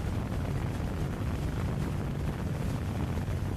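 Strong gusting wind buffets the microphone outdoors beside a Honda CB500 Hornet motorcycle, a steady loud roar with no talking.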